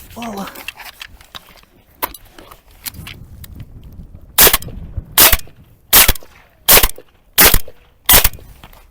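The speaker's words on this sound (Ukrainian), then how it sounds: "Зараз ми зробимо кілька пострілів." Six sharp, loud rifle shots from a 5.45 mm assault rifle ring out in a steady rhythm, a bit under a second apart, after some quiet handling clicks.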